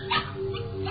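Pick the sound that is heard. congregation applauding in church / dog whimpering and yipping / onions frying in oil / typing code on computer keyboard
dog whimpering and yipping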